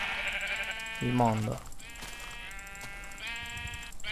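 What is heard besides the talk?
sheep bleating in a dubstep track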